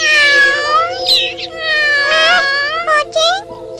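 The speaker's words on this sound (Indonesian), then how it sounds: "Kucing, jangan berisik." A cat meows repeatedly in drawn-out, wavering cries, loud and close, with a short break and a couple of quick yowls near the end.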